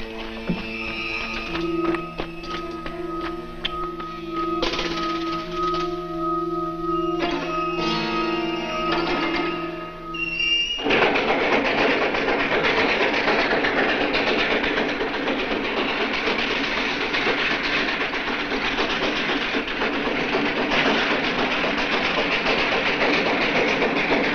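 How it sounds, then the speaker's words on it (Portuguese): A train arrives in a 1970 western film scene: clattering, mechanical rail noise with steady tones for about ten seconds, then a loud, dense roar of the train that fills the rest, with no talk over it. "Pronto, Marshall avisará a chegada do trem."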